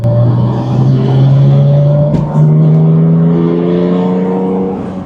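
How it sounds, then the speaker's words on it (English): A Porsche GT4 RS sport exhaust revs loudly and rises in pitch, then drops briefly and climbs again in a second sustained rev, close and aggressive. "And this is with the sport exhaust on."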